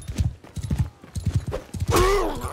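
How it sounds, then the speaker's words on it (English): Horse hooves clip-clop in a steady, rapid rhythm in Mount & Blade, close and clear, followed by a horse's whinny near the end. "This horse is slow"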